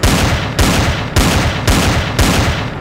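Guns fire at cannons in the space survival game Empyrion: five loud, close booming bursts come at an even pace, about one every half second, with no talking.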